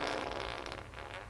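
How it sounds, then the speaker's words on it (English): A Funko Pop figure seated on a toilet plays a brief electronic fart sound, one continuous buzzy burst just over a second long, close and fairly loud with no talk over it. "It makes fart noises."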